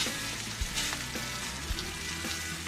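Steak searing in a hot pan, a steady loud sizzle and spatter of fat with occasional soft knocks of utensils against the pan.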